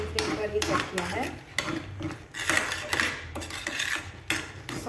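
Pav bhaji being sautéed in a pan over a medium flame, with a metal spatula clanking and scraping against the pan in irregular strokes at close range.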